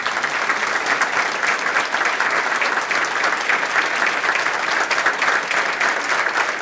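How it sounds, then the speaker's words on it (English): An awards ceremony audience applauds steadily, a dense, even wash of many hands clapping that holds for several seconds at moderate loudness. "Let's give them a big round of applause."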